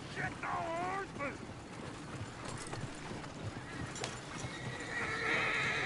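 A horse in the video game Red Dead Redemption 2 gives a couple of whinnies, followed by clip-clopping hooves, with voices and other game sounds mixed in.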